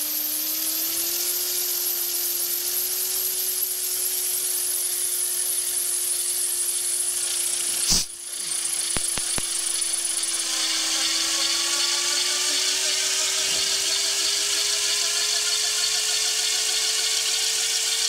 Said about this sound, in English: Okay, pre-rotation to 200, if we can get there.